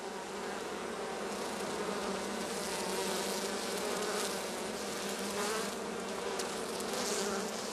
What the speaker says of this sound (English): the bees are now busily collecting pollen and water to help build up the brood